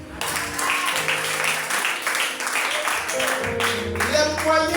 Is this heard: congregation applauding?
yes